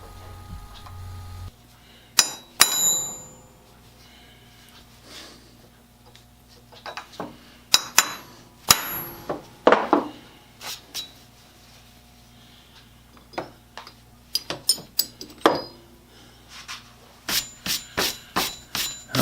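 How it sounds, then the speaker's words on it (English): A hammer strikes a center punch to mark metal vise jaws for drilling, giving sharp, isolated metallic taps spaced apart and then a quick run of evenly timed taps near the end. "then I go back over them with a center punch and make a 90-degree punch mark"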